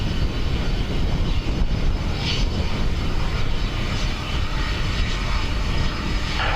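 Steady broadband roar of a fixed-wing airliner landing at Dublin Airport on a windy day, constant and fairly loud throughout with no voices.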